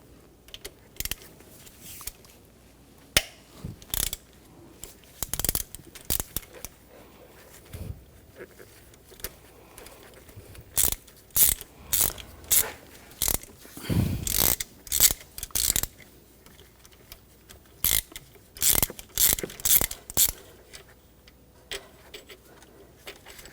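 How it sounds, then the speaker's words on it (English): A ratchet with a 6mm hex socket backs out bolts while replacing the alternator on a 2004-2009 Audi A4 Quattro 2.0L four-cylinder, giving bursts of close, quick clicking in short runs separated by pauses, with no talk. "Using a 6mm hex socket, we're going to take these bolts out."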